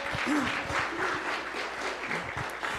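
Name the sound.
audience applause for a speaker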